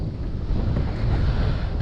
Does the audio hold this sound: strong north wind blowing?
yes